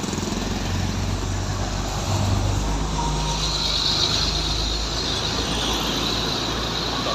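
A Sempati Star bus rolling past on an ordinary road, a heavy low engine rumble with a broad roar swelling mid-clip, loud and steady throughout.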